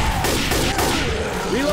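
Rapid gunfire from Left 4 Dead 2 co-op play on a Silent Hill mod, a dense burst of shots close up mixed with game noise.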